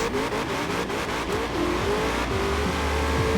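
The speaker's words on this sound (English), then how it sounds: "So quite a bit of wheel spin off the line." A 2020 Shelby GT500 in the Forza Horizon 4 racing game launches with wheel spin, its engine roaring loud and steady with a faint tire squeal mixed in, and no talk.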